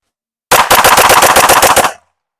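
A Smith & Wesson M&P pistol fired ten times in rapid succession, a loud, close string of sharp evenly spaced shots lasting about a second and a half, then silence.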